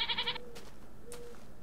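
Goats bleat in the Technic video game: one strong, harmonic bleat opens the sequence, and a fainter second call follows a moment later over a quiet background.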